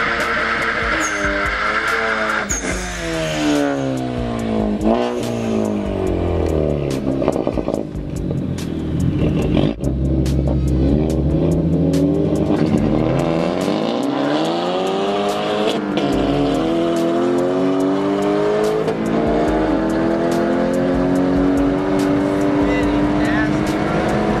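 A 3.7L Mustang spins its tires in first gear on a cold night of street racing, the engine revving hard in rising and falling sweeps throughout, loud and close, with tire noise and other cars around.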